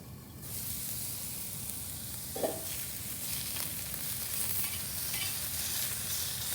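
Food sizzles on a Blackstone Tailgater griddle in a steady, close hiss that runs throughout, with a brief metallic scrape partway through.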